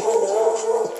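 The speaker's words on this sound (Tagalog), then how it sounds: "Bisip na aso talaga yan." A dog barks and whines close by for about a second, a steady, insistent cry with no speech over it.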